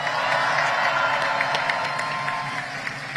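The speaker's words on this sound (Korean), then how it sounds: "더 힘내라고 박수 부탁드립니다" A crowd at an outdoor Korean political rally in Andong claps and cheers, a dense, fairly loud wash of applause that slowly tapers off toward the end.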